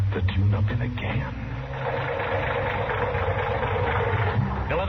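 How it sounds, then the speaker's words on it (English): An old car engine idles with a steady low rumble in an old-time radio western commercial, a continuous tired-sounding drone on a dull, band-limited recording, with voices talking over it. "that engine of yours sounds like real tired iron"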